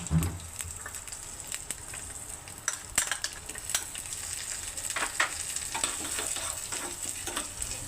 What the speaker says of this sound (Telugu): పక్క స్టవ్ మీద రెండు టీ స్పూన్ నెయ్యి వేసుకొని చిన్న కొబ్బరి మొక్క చిన్న చిన్న ముక్కలు కానీ కట్ చేసి వేయించుకుంటున్నానండి